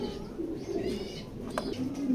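Pigeons in a loft give a soft, low coo that rolls along at moderate distance, with a faint chirp-like call briefly breaking in near the end.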